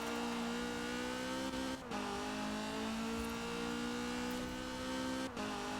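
A Ford GT70 race car in Forza Horizon 4 holds a steady, loud engine drone at high revs on tarmac, with two brief dips where gear shifts break the tone.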